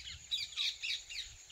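Several harsh squawks from parrots beside a village maize field come in a rapid, uneven series, fairly close and clear over faint outdoor background noise.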